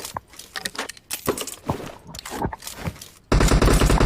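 Gunfire in PUBG Mobile: scattered single shots and short bursts with a metallic clatter, then a sudden loud, rapid automatic burst close at the end.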